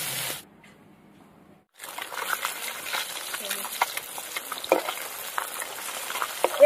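Katla fish belly pieces sizzle and crackle in hot oil as they are turned in the pan for a korma. The sizzle starts, drops out briefly, then returns steady and close with scattered pops.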